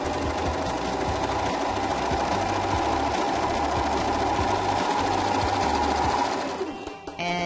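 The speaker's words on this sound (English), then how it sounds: "So let's go ahead and do a test stitch." A serger stitches a flatlock test seam with decorative thread, a steady loud mechanical whir running continuously for about six seconds before tapering off at the end.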